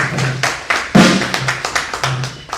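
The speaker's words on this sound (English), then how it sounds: "So I think they do deserve a round of applause around the house today" An audience at an investiture and induction ceremony claps in scattered, uneven bursts, with individual sharp claps and taps standing out rather than a full wash of applause.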